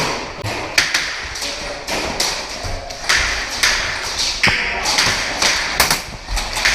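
Airsoft guns fire blind in an outdoor game around a building, giving a run of sharp taps and thuds, some close and loud, in an irregular rhythm.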